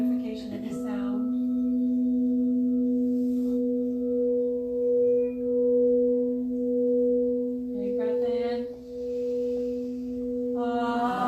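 A crystal singing bowl sustains a pure, steady ringing tone throughout at a workshop, with a soft voice and rustling noises briefly over it at the start and near the end.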